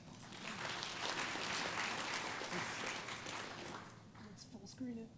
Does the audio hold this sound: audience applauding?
yes